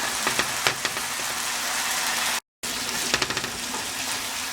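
Cooked rice gets stirred into sautéed vegetables in a hot pan for Hawaiian rice, giving continuous close sizzling with a few sharp scraping clicks and a brief cut to silence midway.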